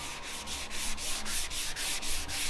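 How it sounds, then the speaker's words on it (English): Body filler on the hood of an off-road wrecker truck being hand-sanded, a rhythmic back-and-forth rasp of about ten even strokes, close and steady with no voices. "we have got this pretty well sanded"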